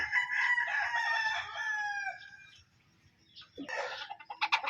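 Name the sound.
roosters, gold street comb gamecocks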